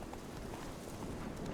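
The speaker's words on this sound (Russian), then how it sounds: "Давай на лошадке поскочим" Rhythmic hoofbeats of a horse galloping in The Witcher 3: Wild Hunt, a quick continuous clip-clop pattern over a broad, steady wash of ambient game sound.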